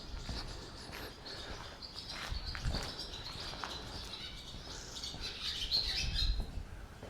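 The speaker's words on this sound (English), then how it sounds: "Well, there are birds everywhere." Birds chirp and call inside an abandoned school building in Indiana, scattered faint tweets echoing over a steady background hiss, with no voices.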